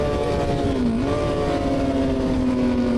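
A Kawasaki ZX-6R engine drones loud and close on a race track at Road Atlanta, its pitch dipping and then settling lower as the rider downshifts and brakes.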